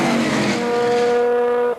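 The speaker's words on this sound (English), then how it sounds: "Hanson appears to be running a higher gear because Allen's getting him at the end of the straightaway." Single-seat Can-Am sports racers, an Allen SSE001 among them, scream down the track straightaway, a loud sustained engine whine with rising harmonics that cuts off sharply near the end.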